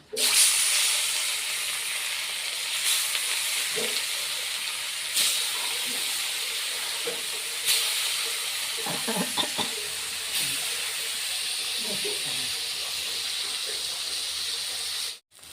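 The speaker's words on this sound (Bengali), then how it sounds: "এখন আমি মাছ আমার দুইবারে ভাজতে হবে মাছ আমি দিয়ে দিচ্ছি" Rohu fish pieces drop into hot mustard oil and fry, a loud continuous sizzling hiss with bursts of spitting and crackling throughout, the initial splash loudest at the start.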